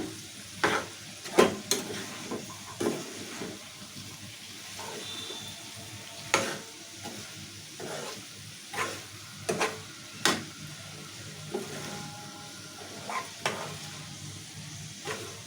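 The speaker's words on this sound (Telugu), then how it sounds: "ఇప్పుడు నూనెలో మంచిగా ఇలా కలుపుకోవాలి" Cauliflower and chana dal stirred in hot oil: a soft sizzle underneath irregular clinks and scrapes of a spoon against the pan, some sharp and close, others lighter, spread over about fifteen seconds.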